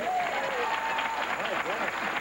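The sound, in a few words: audience applause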